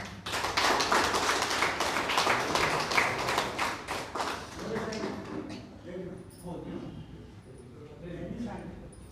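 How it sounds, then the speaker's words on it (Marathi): A crowd claps loudly for several seconds to honour guests with flowers at a Buddhist Varshavas gathering. The applause then fades out, and a voice speaks over the quieter room. "जोरात टाळ्या."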